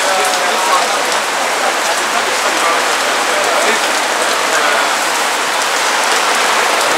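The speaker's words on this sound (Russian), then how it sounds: "Самый настоящий ливень, тропический ливень." Heavy tropical rain pours down in a dense, constant roar, drops drumming hard on surfaces with no break in the downpour.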